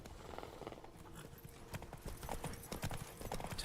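Roach, the horse in The Witcher 3 Blood and Wine, trots in a quick, steady clip-clop of hooves, quiet and up close, with no talk over it.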